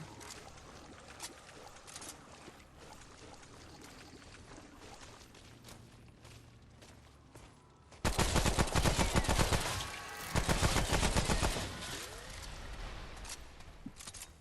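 Video game gunfire from a distant shooter, a loud burst of rapid shots crackling for several seconds in the middle, then fading off over steady background ambience.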